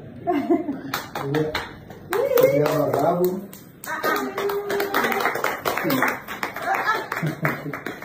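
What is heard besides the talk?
audience clapping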